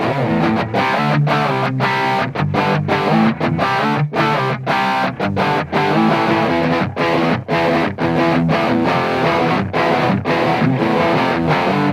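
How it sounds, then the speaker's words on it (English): A fuzz-distorted electric guitar, recorded direct, plays thick, buzzy square-wave chords and rock riffs, loud and upfront with short rhythmic breaks between phrases. "Because the nice thing about fuzz is it's not necessarily harsh because it's square waves."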